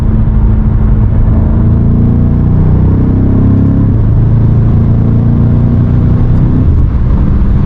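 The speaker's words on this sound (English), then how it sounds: "I want you guys to enjoy the sound of the car" BMW M5 Competition accelerating hard on a late-night drive, its loud engine note rising steadily in pitch from inside the cabin, with a constant rumble and wind noise beneath and no talk.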